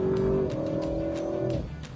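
Audi RS6 engine pulling hard while overtaking through a bend, a steady loud drone with a rising tone that holds for about a second and a half before easing off, with the car's rumble underneath.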